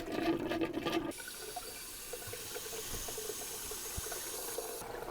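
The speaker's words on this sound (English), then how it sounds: "we're going to flush it with the fresh water coming into the tankless by opening this valve" Fresh water flushing through a tankless water heater into a bucket after a valve is opened, a loud gush cutting off into a quieter, steady running trickle with small knocks.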